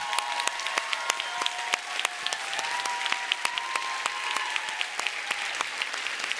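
A room of luncheon guests applauds at a Women in Gaming awards event at GDC 2015, steady dense clapping with sharp individual claps standing out throughout.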